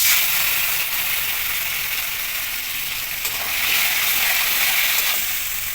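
Turmeric and a ground spice paste fry in a pan with a steady bright sizzle that stays loud and close for several seconds, with faint stirring scrapes and no voices.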